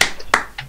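Three sharp, separate claps spaced evenly across a brief moment, close and fairly loud, during an online session of the game Guns of Icarus.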